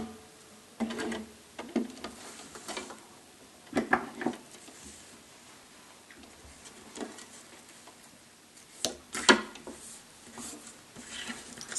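Sewing machine stitching a zipper onto a fabric flap and running in reverse back down the seam, heard as scattered soft ticking and clicking bursts with quiet gaps between them.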